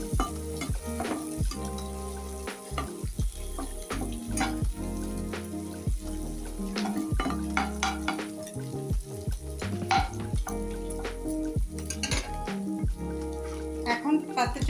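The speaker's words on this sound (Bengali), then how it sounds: "এখন আমি একটা ডিম এখন এটাতে দিয়ে দিব ভাজার জন্য।" An egg fries with vegetables and turmeric in a pan: a steady, close sizzle broken by frequent scraping and clattering strokes of a spatula stirring against the metal.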